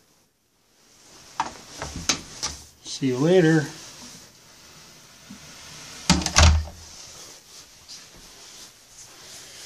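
A newly installed door closes with a solid thunk and rattle of its lock, heard close by amid casual indoor talk and other handling knocks.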